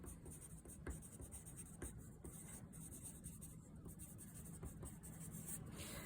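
Pencil or pen writing by hand during a drawing lesson, soft scratchy strokes in short bursts, faint and close.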